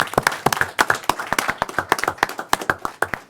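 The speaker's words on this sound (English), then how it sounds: "Let's give them a round of applause again" Scattered hands clap at a town board meeting, a thin round of sharp, uneven claps from a small group in a quiet room.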